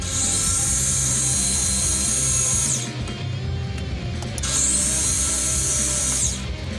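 A drill with a spotting bit bores into knife steel, making a loud, continuous grinding whine that dips briefly twice as the pressure eases.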